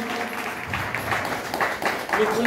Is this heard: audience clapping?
yes